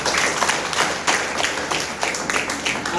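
Applause from an audience at a Vestige business motivational meeting, a steady wash of many hands clapping that swells in bursts, fairly close and loud throughout.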